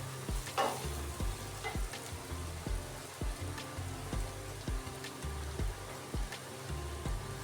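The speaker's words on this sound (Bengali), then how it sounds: "পেঁয়াজ এবং রসুন দিয়ে ভালো করে ভাজা হয়ে গেলে তাতে কেটে রাখা কাঁচা লঙ্কাগুলো অ্যাড করে দিতে হবে।" Onion, garlic and chopped green chilies fry in a pan with a steady broad sizzle, while a utensil scrapes and stirs in regular strokes, no voices.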